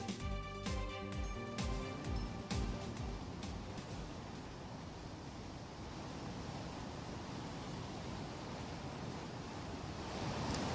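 Dam-released floodwater from the Ukai dam rushes down the Tapi river after heavy rain, a continuous broad roar with a few sharp knocks at the start, steady and fairly loud throughout.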